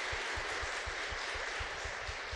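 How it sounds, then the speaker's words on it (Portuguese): Congregation applause at a church Mass, a steady wash of clapping heard from a distance, fairly faint and even throughout. "Uma salva de palmas para vocês."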